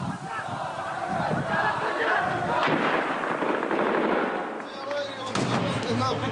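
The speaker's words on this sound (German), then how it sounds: "Auch bei unserem Besuch feuern beide Seiten aufeinander aus allen Rohren." Heavy gunfire exchanged between fighting sides in Baghdad, with sharp cracking bursts and rattling shots at a distance over a murmuring crowd, with people talking over it.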